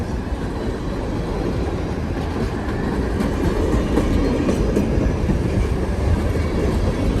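A long freight train of rock cars rolls past steadily, with a dense rumble and rhythmic clickety-clack of wheels over rail joints, loud and continuous throughout.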